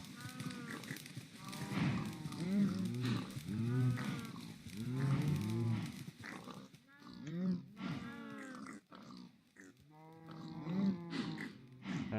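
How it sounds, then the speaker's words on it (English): Minecraft cows moo over and over in a steady stream, long low calls overlapping one after another at moderate volume. "Look at all those cows bouncing in the distance."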